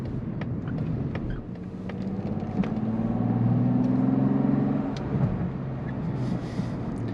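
A turbocharged car engine pulls through its rev range, rising in pitch and loudness toward the middle and then easing off, with a smooth droning tone heard from inside the cabin.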